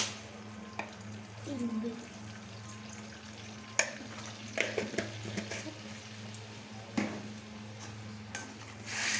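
Snakehead fish curry broth, seasoned with salt and turmeric, bubbling in a pan on the stove, a steady low simmering hiss with a few soft clinks and stirring noises, no voices.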